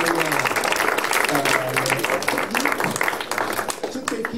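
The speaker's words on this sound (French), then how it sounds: "vous pouvez applaudir" Applause from an audience at a conference, sustained and dense clapping filling the room throughout, with some voices mixed underneath.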